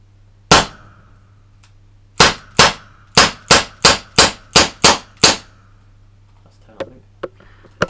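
CO2 revolver rounds striking butted chainmail, a single sharp metallic clang followed after a pause by a rapid run of about eight more ringing impacts, loud and close, with faint clicks afterward.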